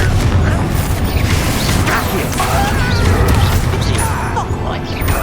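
A Confringo fire-blast spell cast in Hogwarts Legacy, a dense, continuous burst of roaring, crackling energy with booming impacts and mechanical whooshes, sustained loudly throughout with game ambience and no clear pauses.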